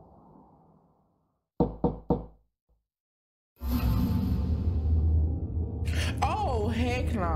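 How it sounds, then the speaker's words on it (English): Three quick, sharp taps on a window in a dark, quiet bedroom, spaced evenly, followed after a short pause by a loud, continuous rush of sound with voices. "I woke up to the noise of tapping at my window."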